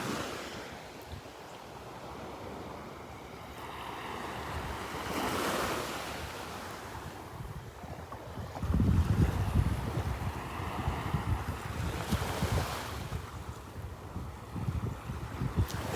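Waves on Vanderbilt Beach on a morning walk, surf washing in and out continuously with swells every few seconds, wind buffeting the microphone, no talk.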